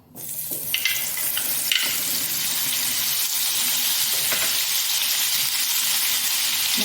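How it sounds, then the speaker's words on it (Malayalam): Butter hits a hot pan on a gas stove and breaks into a loud, steady sizzle and crackle that holds for several seconds, close up, with no talking. "അപ്പോൾ നമുക്ക് ആദ്യമേ ബട്ടർ ഇട്ട് കൊടുക്കാം"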